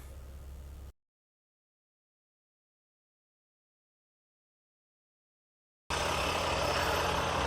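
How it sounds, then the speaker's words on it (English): A 2020 Ram Rebel's 3-liter EcoDiesel with an 8-speed transmission runs with a loud, rough, steady diesel clatter in two short stretches, split by a long silent gap. "The 3-liter diesel made it to the 8-speed transmission. There it is. That's what it sounds like."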